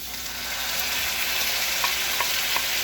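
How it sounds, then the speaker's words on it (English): Seafood fries gently in a hot pan with a steady, close, even sizzle throughout and a few faint crackles. "make sure that you fry them very gently"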